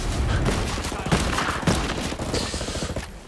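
Dense bursts of automatic gunfire in Ghost Recon Breakpoint PvP crackle and thud in rapid succession, loud and close, with overlapping unsuppressed shots from several weapons.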